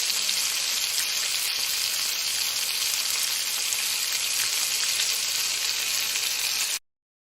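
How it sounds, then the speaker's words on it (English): A continuous, loud crackling sizzle like grease frying in a pan plays alone as a sound in a guessing game, steady for about seven seconds before cutting off abruptly into silence. "Sizzling."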